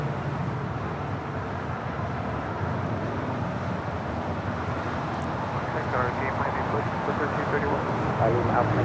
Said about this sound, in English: Coming in from Taipei, a 777 freighter.